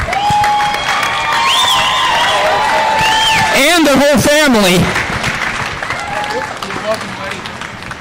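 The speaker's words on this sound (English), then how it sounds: "Can we give Dave another round of applause?" A crowd at the Cache County Fair & Rodeo junior livestock showcase claps and cheers in a steady, dense wash of applause that fills the whole stretch, while an amplified announcer's voice talks over it and a brief rising-and-falling whistle-like tone cuts through midway.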